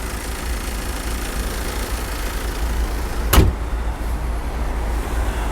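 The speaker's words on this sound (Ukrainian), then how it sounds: "Двигун працює тихенько" A Ford Mondeo 5 Titanium with a two-litre EcoBoost engine idles steadily with a low continuous hum, broken near the middle by a brief sharp click.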